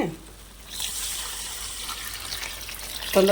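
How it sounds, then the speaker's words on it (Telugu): Tamarind juice is poured into lentil sambar with drumstick pieces, giving a short, soft liquid pour and splash under faint background noise. "ఇప్పుడు మనం చింతపండు పులుసు పోసేసుకుందాం అండి"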